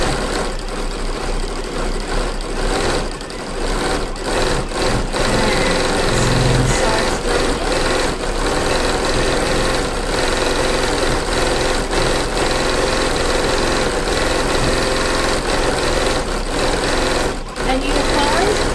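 A sewing machine runs steadily for free-motion embroidery on fabric, its fast mechanical whir continuous and close, with a person talking over it throughout.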